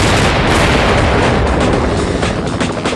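Explosive drums blow up after being shot in the zombie shooter game Fatal Raid, producing a loud, continuous roar of booming blasts mixed with gunfire for several seconds.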